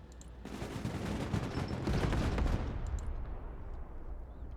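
Sustained, dense gunfire from Bradley armored vehicles in the military strategy game Broken Arrow, a heavy continuous fusillade swelling for a few seconds before fading into quieter battlefield rumble, with no talking.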